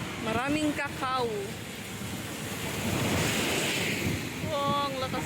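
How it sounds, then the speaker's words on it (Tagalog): Strong wind roars steadily across the microphone by the sea, with surf rumbling beneath and voices talking briefly at the start and end. "Oh, ang lakas ng hangin."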